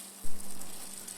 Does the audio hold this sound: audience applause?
no